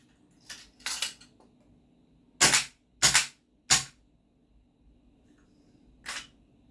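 A GHK AKMN gas blowback airsoft rifle fires in semi-auto, six or so sharp separate mechanical cracks, some in quick pairs, spaced by short silences, close and fairly loud with no talk.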